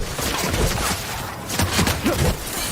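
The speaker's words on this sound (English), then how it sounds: "Returning fire!" Gunfire in the video game The Outer Worlds, a dense, continuous rattle of shots mixed with game noise, loud and close throughout.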